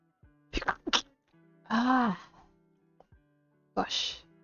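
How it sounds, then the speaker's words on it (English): A woman sneezes indoors, with short sharp bursts and a drawn-out nasal exhalation, heard close among brief vocal sounds and a low background tone. "Ah, gosh, really sneezing."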